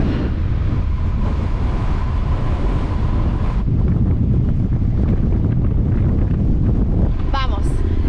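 Heavy wind buffeting a microphone while riding a motorcycle, a loud constant roar throughout, with a brief voice near the end.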